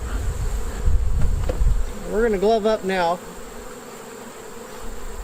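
Honey bees buzz around an open hive on a September day, a wavering drone near the microphone, while someone speaks briefly.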